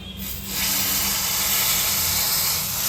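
Loud, steady hissing sizzle of hot oil with red chilli tempering poured into curry, rising sharply in the first half second and holding strong throughout.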